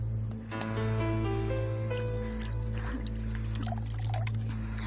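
Water poured into a glass indoors, a steady close pouring stream with rising tonal ringing as the glass fills, running throughout against a low background hum.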